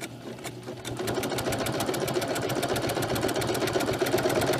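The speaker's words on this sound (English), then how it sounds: "And then you just start sewing, and don't forget your back stitch." A sewing machine stitches the seams of a fabric mermaid tail, right over the pins. After a brief quiet start it settles into a steady, close, fast-running whir that continues to the end.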